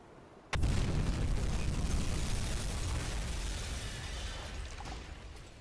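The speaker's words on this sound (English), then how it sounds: "only one torpedo struck home, but she is burning at the front of the ship quite profusely" A torpedo strikes a ship in the UBOAT submarine game, bursting in a sudden loud explosion that settles into a long, dense roaring rumble with no voices.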